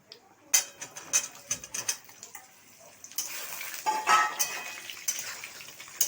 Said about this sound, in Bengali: আলুগুলোকে একটু ভাজতে হবে